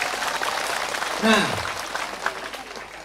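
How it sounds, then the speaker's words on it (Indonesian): Audience applause at an Indonesian religious gathering and political speech, a short moderate burst of clapping that rises and fades under a voice. "Tepuk tangan untuk Indonesia."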